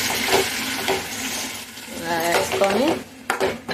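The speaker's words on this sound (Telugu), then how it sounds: "ఒక్కసారి మొత్తం కలిసే విధంగా తిప్పుకోండి" Mutton keema stirred around a pan: steady sizzling with repeated metal spoon scrapes and clinks against the pan, close up, while a voice speaks briefly.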